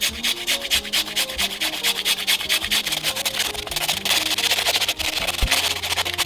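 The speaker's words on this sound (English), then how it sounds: "I peeled some russet potatoes, and I'm going to go ahead and grate up all the potatoes." Peeled russet potatoes rasp steadily against a grater in quick, even rhythmic strokes, close and fairly loud over background music.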